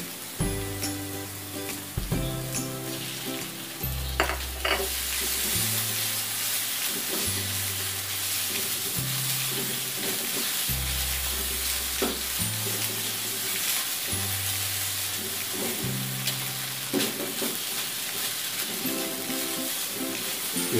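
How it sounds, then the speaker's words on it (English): Tomato paste sizzles and fries in a pan while being stirred, a steady hiss with soft scraping under continuous background music. "And then we will add our tomato paste to make it dark"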